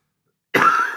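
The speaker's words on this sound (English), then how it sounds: "Excuse my cough today." A single sharp cough bursts out after half a second of silence, close and fairly loud, from someone teaching a maths lesson, with no talking around it.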